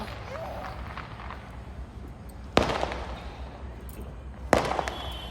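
Two sharp firecracker bangs go off during Karwa Chauth festivities, about two seconds apart, each loud and sudden over a steady noisy background.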